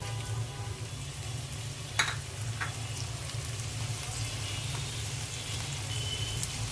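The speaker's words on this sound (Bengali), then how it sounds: "পেঁয়াজটা হালকা ভেজে নিব" Onion and green chilies frying in a pan give a steady, close sizzle with a low hum underneath and a couple of sharp clicks partway through.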